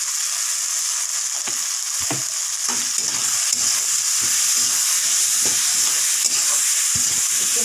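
Egg and soybean curry with salt and turmeric frying in a pan while being stirred; a continuous loud sizzle broken by repeated rhythmic scraping strokes of the spatula, with no talking.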